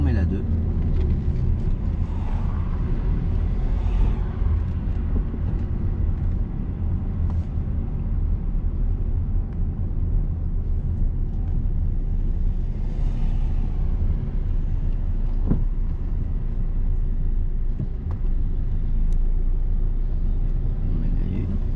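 Car being driven after a shift into second gear during a driving lesson, a steady low engine and road rumble throughout, with people talking over it.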